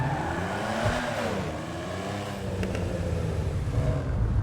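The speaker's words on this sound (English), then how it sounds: "it sounds alright when you rev it, just when you're stationary" A stationary car engine revs steadily close up and fairly loud, its pitch rising and falling with no voices over it.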